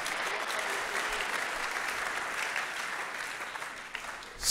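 Church congregation applauding during a French-language sermon on baptism in the Holy Spirit, a steady dense clapping that holds evenly for several seconds and swells slightly at the end.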